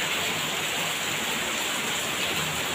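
Heavy morning rain falling hard, a dense, steady hiss of downpour close by with no pauses and no voices.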